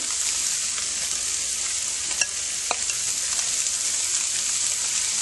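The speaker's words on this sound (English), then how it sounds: "I'm about to add the veggies back in with the tofu" Vegetables frying in a pan alongside browning tofu, a loud, dense, hissing sizzle close up with a couple of faint utensil taps, no talking.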